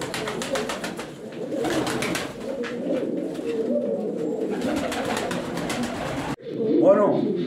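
Buchón pouter pigeons coo repeatedly in a loft, low throaty rolling calls close by, with wing flutters and shuffling, followed by a louder burst of cooing near the end.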